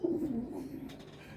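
A pigeon coos softly nearby, a low throaty burbling call lasting about a second.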